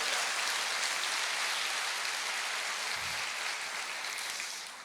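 A church congregation applauding, a broad continuous roar of many hands clapping at once, sustained evenly throughout and fading slightly at the very end.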